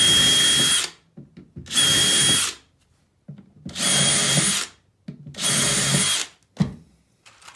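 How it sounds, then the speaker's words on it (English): A power drill boring pilot holes in chipboard flooring over joists, four loud whirring bursts of about a second each, separated by short pauses and small knocks, close and alone. "Again, doing the pilot hole"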